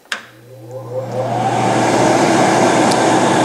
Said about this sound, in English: Once you hit that fan switch, you'll hear the fan actually turn on.